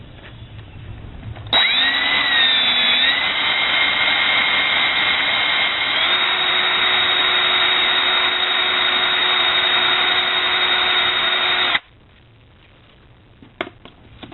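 A power drill whirs steadily for about ten seconds at a constant high pitch, spinning a ball bearing to mix grease inside it, starting and stopping abruptly, loud and close.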